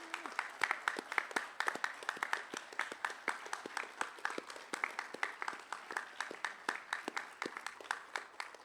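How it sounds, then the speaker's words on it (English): An audience claps at a military training center graduation ceremony. The applause is steady and moderately distant and keeps going the whole time, with individual claps standing out crisply. "could the guests please help me thank them for their efforts and giving them a warm round of applause?"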